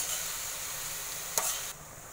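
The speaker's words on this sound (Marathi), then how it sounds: "आता हे सगळं हळूहळू मिक्स करायचं." Poha (flattened rice) being stirred slowly in a hot pan, a soft steady sizzle with faint scraping, one brief louder scrape near the middle, then quieter.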